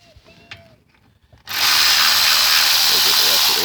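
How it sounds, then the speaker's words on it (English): A Milwaukee electric ratchet spins out rear brake caliper bolts on a 2018 Kia Stinger, a sudden loud, steady buzzing whir up close following a few quiet clicks and handling sounds. "I get my electric Milwaukee."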